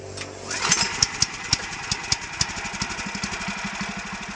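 A riding lawn mower's small engine is pull-started. It catches after a brief cranking whir, then settles into a loud, close, rapid, even chugging idle with no talking.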